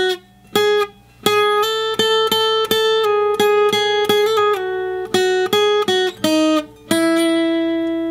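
An electric guitar plays the lead phrase from a song, a quick string of clean plucked single notes with a few short pauses, close and clear, with no voices over it.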